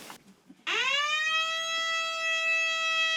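A loud electronic fire alarm siren sounds during a fire safety inspection of an apartment building, starting abruptly and holding a steady, harmonic-rich wail, close and continuous with no talking.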